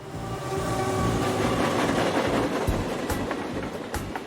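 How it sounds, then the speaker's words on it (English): A train rolls past near an old tin barn northeast of Oklahoma City: a steady, loud rumble with rhythmic rail clatter and metallic squeals, continuous throughout with no voices. "he can hear the train as it goes by"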